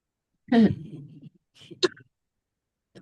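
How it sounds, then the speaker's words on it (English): A single throaty cough bursts out at the start, followed by a softer rough clearing sound and another brief cough, with short quiet gaps between. "Oh, you're coughing."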